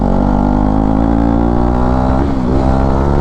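A KTM RC 390 motorcycle engine drones loud and steady at high revs with a slight dip and rise in pitch partway through, close up and continuous, no voices.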